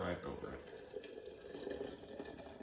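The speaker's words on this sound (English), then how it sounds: "we'll take our leaves, put them into the pot, and pour all the water right over" Hot water poured from a kettle over loose tea leaves in a teapot, a steady splashing pour that carries through at moderate loudness.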